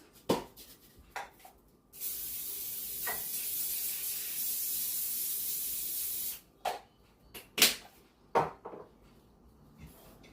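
A spray bottle mists a dish in a home kitchen, one long steady hiss lasting several seconds, set among scattered clinks and knocks of cookware before and after.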